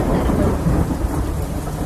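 Heavy, steady rain with a deep rumble of thunder rolling underneath, dense and loud throughout with no pauses.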